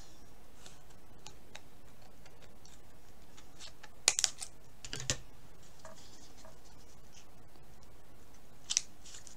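Scissors make a few faint, sharp snips at close range against a quiet background, with one cluster in the middle and a pair near the end.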